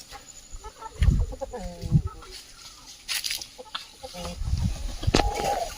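A peacock calls a few times at a forest edge, with short, sharp, moderately distant cries over quiet outdoor background sound.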